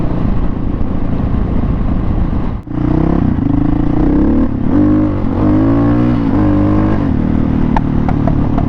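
A Husqvarna SMR 570 supermoto engine idles loudly and blips up and down in pitch, close and continuous with a brief dip, plus a few metallic clinks near the end.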